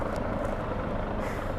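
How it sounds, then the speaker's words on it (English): A helicopter passes overhead with a low, continuous rotor drone and engine rumble that stays steady and fairly loud, with no speech over it. "And there's a helicopter going above me"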